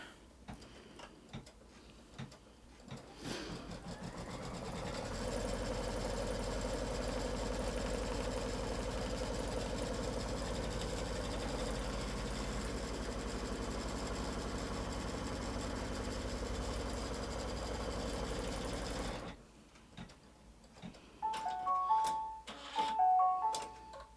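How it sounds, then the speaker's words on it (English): An embroidery machine stitches a quilt block in the hoop, a steady mechanical ticking and motor hum running continuously for about fifteen seconds before stopping, followed by a few faint clicks and beeps. "let's stitch this half down"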